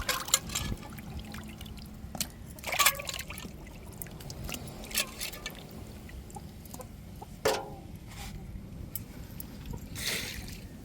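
Water trickles and splashes intermittently as crab pieces are rinsed and water poured off, with a few sharper splashes and faint clucking in the background.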